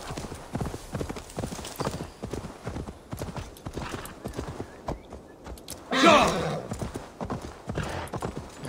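Horse hooves clip-clop at a steady trot in the video game Assassin's Creed Valhalla, with an occasional whinny, set under talk and game sounds; one brief loud burst of noise breaks in partway through.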